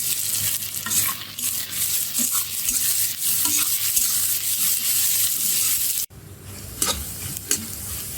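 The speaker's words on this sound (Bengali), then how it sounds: "পেঁয়াজ ভাজা হয়ে গেছে" Onions sizzle in a hot pan while a spatula scrapes and stirs them continuously for egg noodles, a close, steady frying hiss with a brief cut and a few clinks near the end.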